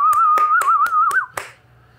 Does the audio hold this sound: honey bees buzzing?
no